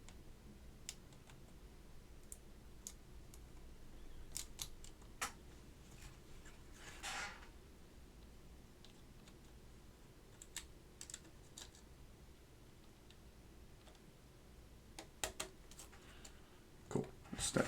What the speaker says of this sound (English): let's put our stabilized keys in here. Let's put our step caps lock in here.